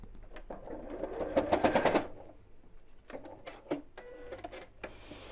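Sewing machine stitching an oven glove, a fast mechanical whir that builds and peaks then stops, followed by short clicks and handling noises close by.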